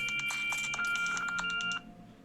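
A laundry machine's reminder sounds as a run of steady electronic beeps and tones for about two seconds, then stops abruptly, leaving quiet room tone.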